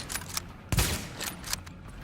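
A few sharp gunshots in The Division, one heavy close report amid scattered quieter bursts over roughly two seconds, with no voices.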